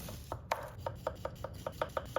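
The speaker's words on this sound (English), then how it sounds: "Now we'll finely chop half of a white onion." Knife finely chopping half a white onion on a board, about a dozen crisp, fairly regular cuts close by with no talk.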